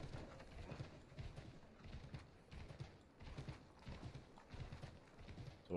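Horse hooves clip-clop in a steady, repeated rhythm through the whole stretch in the video game Assassin's Creed 3, fairly close and moderately loud with no talk over them.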